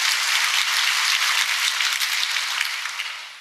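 An audience at a university State of Christopher Newport address bursts into sustained applause, dense clapping filling the room for several seconds before starting to taper off at the end.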